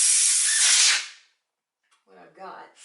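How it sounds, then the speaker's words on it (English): Spray foam hisses out of a nozzle onto a portrait bust for a bronze sculpture, a loud steady burst lasting about a second, then silence and a brief quiet voice. "So I'm going to add a little bit of spray."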